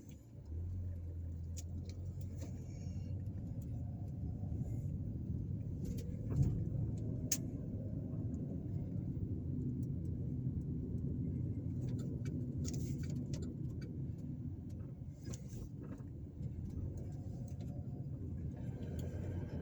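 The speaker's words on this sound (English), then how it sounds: "as I drive around this city" A car drives through the streets of Selma, Alabama. A low, steady engine and road rumble is heard from inside the cabin, faint and even throughout, with a few small clicks and no talk.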